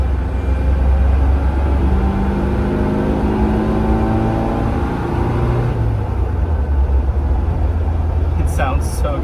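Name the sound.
carburetor car engine running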